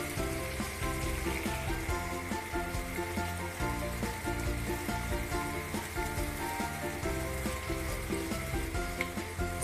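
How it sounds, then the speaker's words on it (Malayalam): One sliced onion sautés on high flame in a pan for soya chunks Manchurian, a continuous dense sizzle held at an even level throughout with no talking. "സവാളയുടെ നിറം ജസ്റ്റ് ഒന്ന് മാറി വരുന്നവരെ വഴറ്റിയാൽ മതി."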